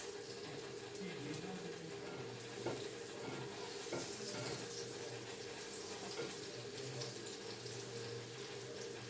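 Keto cabbage burger patty frying in a pan on a slow fire, a soft continuous sizzle with occasional stirring and scraping knocks, and a voice speaking faintly over it.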